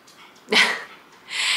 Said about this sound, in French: il y a le chien du voisin qui passe.